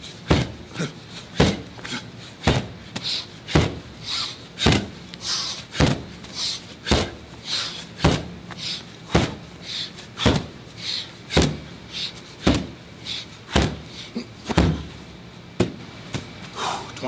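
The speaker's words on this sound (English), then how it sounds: "20 seconds ball slams." Medicine ball slams during a workout, loud sharp thuds repeating at a steady rhythm about twice a second or slower, each landing close and alone.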